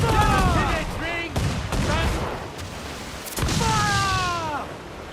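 Heavy pirate-ship cannons in Assassin's Creed Black Flag fire in several broad, booming blasts, with shouted crew commands rising over and between the volleys.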